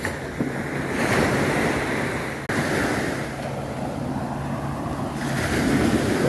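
Gentle early-morning ocean waves wash onto the beach at Nam Rin, Ban Chang, Rayong, making a steady, continuous surf roar mixed with wind rumble across the microphone, with no voices.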